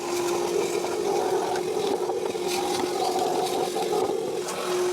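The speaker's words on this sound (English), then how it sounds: "if you have a shop vac, I highly recommend just sucking out all the crap that you can see in there" A shop vac runs steadily, sucking debris out of the air filter housing of a BMW X7, a constant whining motor drone close by with small rattles and scrapes from the nozzle.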